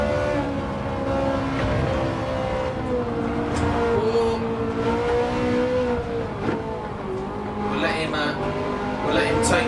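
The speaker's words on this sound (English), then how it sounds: "Using the power of this Ferrari to come out of these corners." Ferrari race car engine in the Gran Turismo 7 racing game, a steady loud revving drone with shifting pitch as it powers out of corners, someone talking over it throughout.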